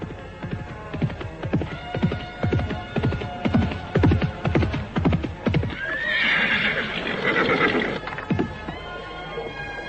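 A horse whinnies loudly and close, a long series of rhythmic pulsing neighs running for several seconds, followed by a breathy snort and snuffling as the call fades.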